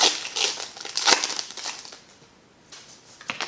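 A Pokemon card booster pack from a Rapid Strike Urshifu V box (Darkness Ablaze) has its foil wrapper torn open, giving close, crisp crinkling in a few quick bursts that quiets briefly before a final rustle.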